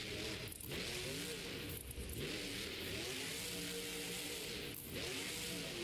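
The Grave Digger monster truck's engine roars and revs hard while racing in an arena, a loud, continuous, distorted drone with rising and falling pitch sweeps.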